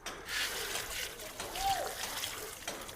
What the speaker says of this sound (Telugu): ఇప్పుడు దీంట్లో ఇదిగోండి ఓడబ్ల్యూడిసి వాటర్ వేస్తున్నాను